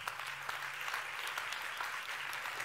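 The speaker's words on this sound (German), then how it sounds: "Ihr Applaus nochmal." An audience claps at the Deep Tech Award 2022 prize ceremony, a continuous, even round of applause heard from a distance, soft and unbroken.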